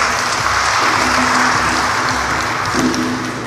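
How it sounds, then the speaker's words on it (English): Worshippers at an Igbo Mass applaud the altar servers, a steady wash of many hands clapping together in a reverberant church, accompanied by a faint sustained keyboard-like tone. "Let's clap for them"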